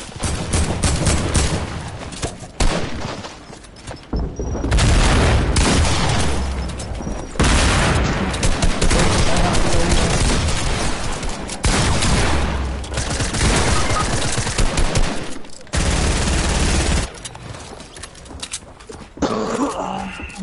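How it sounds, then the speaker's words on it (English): Rapid video-game gunfire in a squad shooter, with loud overlapping bursts and booms coming in long, dense volleys broken by short pauses. "People shooting at me."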